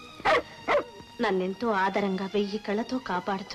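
A dog gives two quick barks at the start, then someone speaks at length in an old film scene.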